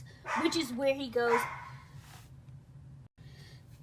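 A dog barks and yips a few times close by, with loud, pitched calls in a short burst before a speaking voice carries on.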